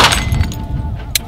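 A handgun fires in a high-speed filming session, giving a sharp, close crack with a brief bright burst near the end of the short clip and a muffled low rumble beneath.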